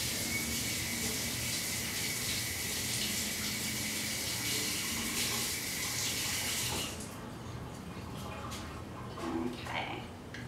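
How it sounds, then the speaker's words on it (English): Water runs from a tap at steady strength for several seconds while making yogurt and honey popsicles, then stops, leaving quieter kitchen sounds and a voice. "I'm just going to add a little bit of water so that it blends better"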